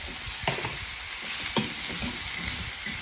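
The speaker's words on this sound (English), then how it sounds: "I'm going to add a couple of these little onions in." Small whole onions brown in a pan for beef burgundy stew, with a steady close sizzle and a few sharp scrapes and knocks as they are stirred and moved around.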